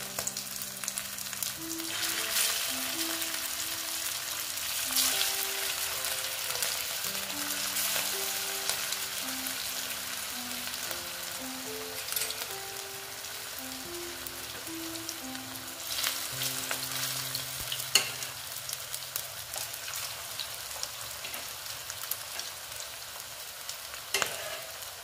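Pieces of potato frying in a pan on low heat, a continuous close sizzle with a few scrapes of stirring over a low hum.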